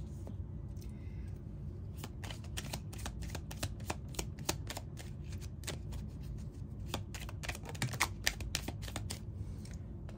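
Tarot cards shuffled continuously for a pick-a-card reading, giving a dense, steady riffle of papery flicks and snaps with sharper clicks scattered throughout, close and fairly loud with no talking.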